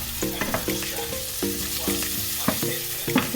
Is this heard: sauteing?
yes